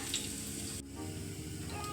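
Steady, quiet sizzling of cumin seeds frying in hot oil, a continuous crackling hiss with no voices over it.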